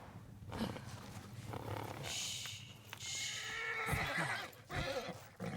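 A horse whinnies in the samurai video game Ghost of Yotei, a rising neigh set against busy game ambience with other broad noises and brief thumps, fairly close and loud.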